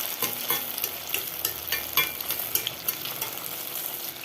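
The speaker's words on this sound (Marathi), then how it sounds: "तापलेलं आहे, आपण टिक्की फ्राय करून घेऊया।" Sabudana tikki patties fry in hot oil with a continuous, close crackling sizzle dotted with small pops and stirring clicks.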